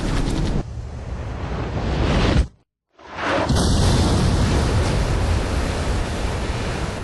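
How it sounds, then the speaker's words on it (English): Two sub-launched missiles strike a ship in Ace Combat 5: The Unsung War. A roaring, wash-like blast fills the air, cuts to a brief silence, then returns as a sustained rumble with a short whistling tone. "We've been hit by 2 sub-launch missiles."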